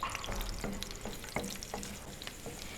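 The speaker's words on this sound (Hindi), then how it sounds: "प्याज को हमने यहाँ पर सौते कर लेना है" One onion sautés in about half a cup of hot oil, a close, steady sizzle broken by a few sharp spoon stirs against the pot.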